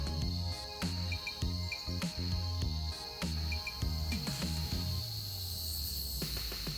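Quiet electric motor of an E-flite UMX Night Vapor, a small indoor-capable RC plane, flying on low throttle, giving a steady high whine with a cricket-like chirping texture and light rhythmic pulsing throughout.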